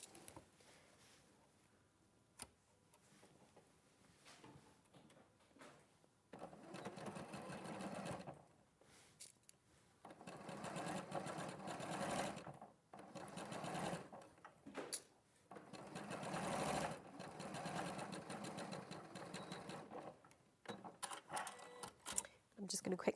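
Sewing machine stitching fabric a centimetre from the edge in bursts of steady rapid whirring, close and fairly loud, with brief pauses between runs and a person talking at times.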